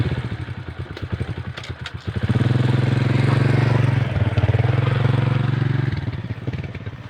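A motorcycle engine putters at idle, then revs up into a loud, steady drone that holds before easing off slightly.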